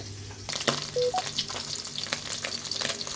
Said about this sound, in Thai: ทอดปลาทูซุก ๆ